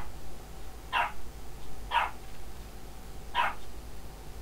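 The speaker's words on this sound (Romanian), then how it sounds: "sper să nu se audă câinele pe fundal, că latră-n prostie." A dog barks in the background, three separate sharp barks spaced about a second apart, moderately distant, over a steady low hum with no talking.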